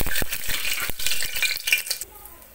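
Garam masala hits hot oil in a pan, crackling and spattering alongside a series of clattering spoon strikes and stirs that stop abruptly, leaving a faint hiss.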